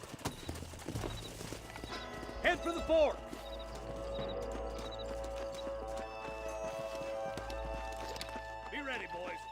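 Horses in the video game Red Dead Redemption clip-clop at a walk and give a brief whinny, hooves close and steady while someone speaks over them against a low musical bed.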